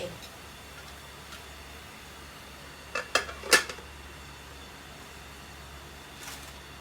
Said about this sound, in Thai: จะเอาฝาหม้อปิดเลย